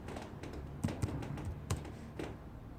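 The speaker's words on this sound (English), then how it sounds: "Since the pages are missing, we type it in." Quiet, close keystrokes tap on a computer keyboard in short uneven bursts, with a few slightly harder clacks standing out from the low steady clicking.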